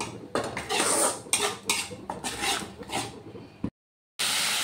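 Yogurt being stirred into an egg curry in a pan over a low flame, with repeated scraping and clattering of a spoon against the pan, close and busy, ending after a brief silence.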